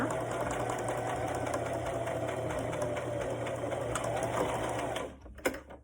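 A sewing machine runs in a steady, continuous mechanical whir stitching fabric mask pieces, close by, then stops near the end followed by a couple of small handling clicks.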